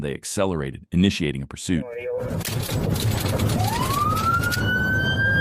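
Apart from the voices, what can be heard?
police car siren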